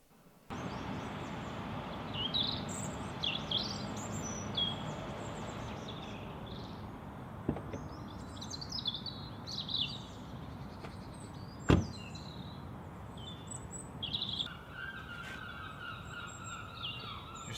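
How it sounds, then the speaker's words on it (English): Seagulls call overhead outside a parked 2018 Ford Fiesta ST Line X, giving short squawks scattered across the clip over a steady outdoor rumble, with a couple of sharp knocks partway through. "Just in time for the seagulls to come over."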